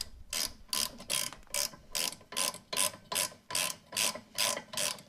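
A ratchet tightening brake caliper bracket bolts during a front brake pad and rotor job, about a dozen rapid clicking bursts in a steady rhythm, close and clear with no voices.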